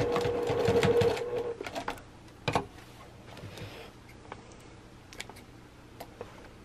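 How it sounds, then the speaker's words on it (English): A sewing machine back-stitches a seam on a zippy travel bag in a quick, close, rattling burst, followed by softer scattered ticks and clicks as the stitching is finished off. "needle down, and then just finish up with a nice back stitch because you want this to be secured."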